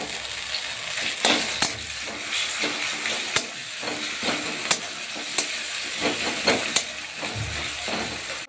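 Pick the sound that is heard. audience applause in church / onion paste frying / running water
onion paste frying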